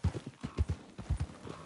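Quick, rhythmic hoofbeats of a galloping horse in the video game Red Dead Redemption 2, steady clip-clop close by, with no voices.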